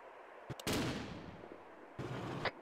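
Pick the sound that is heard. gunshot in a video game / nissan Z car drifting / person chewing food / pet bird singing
gunshot in a video game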